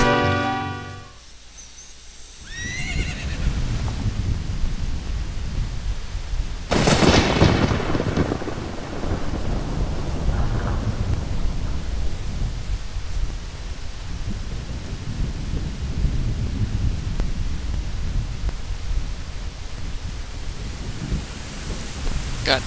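Rain and thunder in the video game Zelda Ocarina of Time: after a quiet start, steady loud rainfall hisses throughout, with a sharp thunderclap crackling in early and distant rumbles beneath the downpour.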